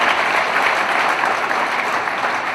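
An audience at a Hindi poetry gathering in Indore gives the host loud, sustained applause, a thick, even roar of many clapping hands from start to finish.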